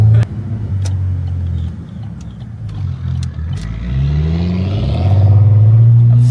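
A Nissan Skyline's engine and exhaust rumble loud and near on a Sydney road, the revs climbing steadily toward the end with a deep, throaty drone.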